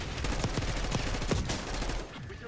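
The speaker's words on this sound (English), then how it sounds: "Enemy sniper shooting." An enemy sniper's gunfire in the Black Ops 6 video game comes as a dense, steady string of sharp shots cracking close and loud over a constant rumble, with no talk.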